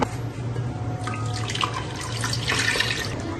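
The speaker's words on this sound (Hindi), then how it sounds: "कड़ी हमने यहाँ पकानी है तो हमें यहाँ पानी ज्यादा ऐड करना है।" Water splashes from a tap into a cooking pot for Indian kadhi made with yogurt and spices, a continuous close running stream with brief louder gushes near the end.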